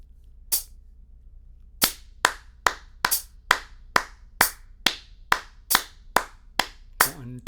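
Close, dry hand claps played as triplet subdivisions, three claps within each pulse, one opening clap followed by a brisk, evenly spaced run of roughly a dozen claps.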